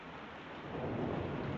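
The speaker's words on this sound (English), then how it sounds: "And poor Edwards, these storms don't do him any good." A thunderstorm outside, a steady wash of heavy rain and low rumbling that swells slightly midway, fairly faint and continuous with no voices.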